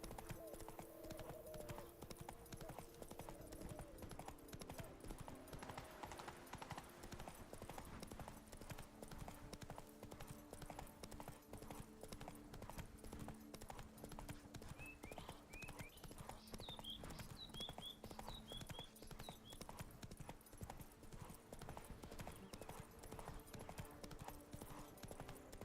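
Steady clip-clop of a draft horse's hooves in The Witcher 3: Blood and Wine, a continuous rhythmic trot under ambient game music, with a faint whinny-like call partway through.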